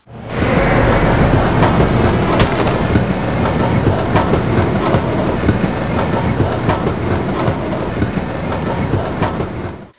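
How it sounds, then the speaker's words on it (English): A tram in the Half-Life 1 mod Route City rolls steadily along rails, with loud rumbling, rhythmic clickety-clack of wheels over joints and a constant close drone for the whole stretch. "the tram stopped moving in the second map"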